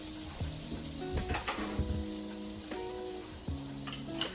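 About two tablespoons of butter melt and sizzle in a pan for shrimp scampi sauce, a steady crackling fry close by with light clinks and scrapes of utensil against the pan.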